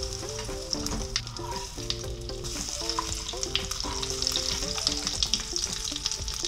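Breaded eggplant piccata sizzles steadily in oil in a pan, a constant crackling fry with soft music underneath.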